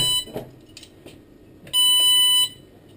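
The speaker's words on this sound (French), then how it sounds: "Il y a des bips différents pour les malvoyants qui ne voient pas les Pictogramme" A door status indicator aboard a Stadler RABe 511 train sounds a sharp, steady electronic beep lasting under a second, preceded by a few faint clicks in a quiet carriage.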